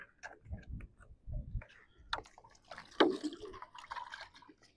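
Two abandoned puppies drink water, lapping and slurping quietly in soft, irregular bursts close by.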